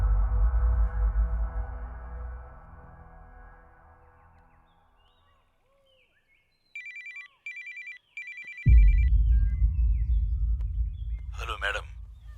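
A telephone rings in a Telugu-dubbed investigation thriller, several short electronic ring bursts after a low rumbling fade, then a sudden heavy ambient drone and a brief warbling tone.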